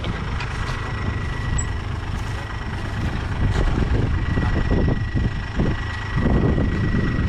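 Kubota ET95 diesel engine driving a water pump to drain a small pond for fish catching, with a steady, loud rumble running throughout, wind buffeting the microphone.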